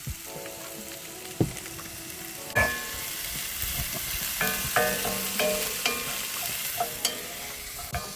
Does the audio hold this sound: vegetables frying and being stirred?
yes